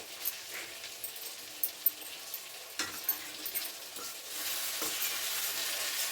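Salted chicken fry is stirred in a pan, with scattered scraping clicks over a quiet sizzle that grows into a steadier, louder frying hiss toward the end. No voices are heard.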